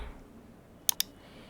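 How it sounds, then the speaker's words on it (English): Two quick, crisp keystrokes tapped on a computer keyboard in a quiet room, close and clear, with low background hiss between them. "And here I'm typing Discord audio."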